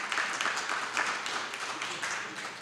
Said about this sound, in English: You get all the applause, Ken.